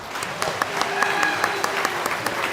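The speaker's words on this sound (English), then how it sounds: "Give all the people a thunderous applause." Thunderous applause from a conference audience in an auditorium as dignitaries take the dais, a dense steady wash of clapping with sharp individual claps standing out, loud and continuous throughout.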